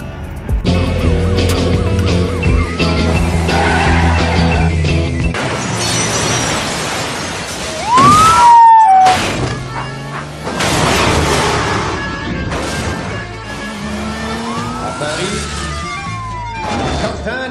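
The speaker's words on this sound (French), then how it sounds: "Il s'agit bien sûr de Taxi 2 avec ce carambolage énorme en voiture de police qui a été tourné sur cette route-ci." A huge police car pile-up from the film Taxi 2, full of roaring engines, screeching tyre skids, loud crashes and shattering glass, with sirens wailing between impacts.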